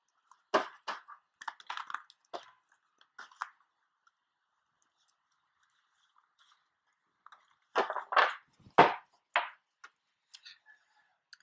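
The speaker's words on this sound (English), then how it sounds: "while I shuffle and send your energy into the deck" Tarot cards are handled and shuffled close by in short bursts of crisp slaps and riffles, separated by a long quiet gap before another cluster of sharp card flicks.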